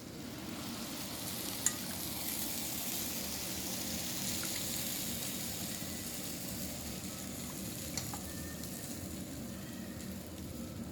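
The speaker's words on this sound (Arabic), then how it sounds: "هنا بعد ما طاب قلب اللوز نتاعنا نجو شربوه بالشاربات تكون باردة بهذه الطريقة" Cold syrup poured over hot, freshly baked almond semolina chamia pastry, giving a steady, even sizzling hiss that holds at one level throughout, close by, with no talk.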